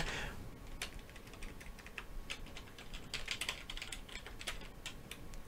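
Typing on a computer keyboard, a quiet, irregular patter of key clicks in quick bursts over faint room noise, fairly close but soft, with no one talking.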